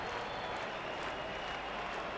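Baseball stadium crowd at an Oakland-Seattle game rising and applauding, a continuous distant wash of clapping and cheering at low volume.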